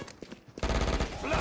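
Rapid gunfire crackles in a shooter video game, a few scattered shots giving way to a dense, continuous burst of automatic fire that stays fairly quiet in the mix.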